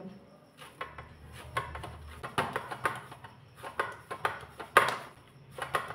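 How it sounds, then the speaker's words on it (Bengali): Hands greased with ghee kneading green spinach dough for Bengali roll pitha: quiet, close, irregular squishing pats and presses that come in a loose, uneven rhythm. "হাতে একটু ঘি লাগিয়ে নেব, দিয়ে সবুজ ডোটাও ভালো করে মেখে নেব"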